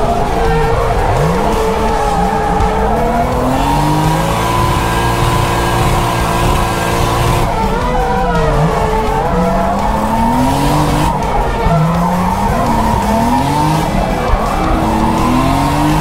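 A drift car at a track screeches its tires in long, wavering squeals over a loud, steady engine roar, near and continuous throughout.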